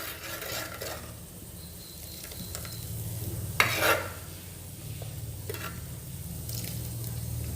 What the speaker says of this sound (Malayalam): ഇതിപ്പം നന്നായി ഒന്ന് ഇളക്കിയെടുക്കുക